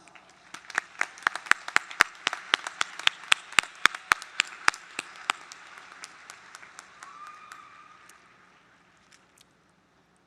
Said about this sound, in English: Let us give all of our students our applause.